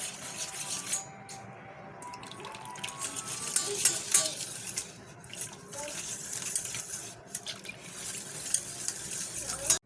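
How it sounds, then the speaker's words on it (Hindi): Milk poured into a bowl of French toast batter: a continuous, close liquid splashing and stirring sound that runs through the whole stretch at fairly steady loudness. "तो हम इसके अंदर हस्बे ज़रूरत दूध डालेंगे"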